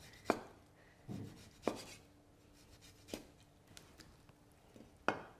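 A knife chops blanched pork belly into rough chunks on a board, about six separate sharp thuds spaced roughly a second apart against a quiet background.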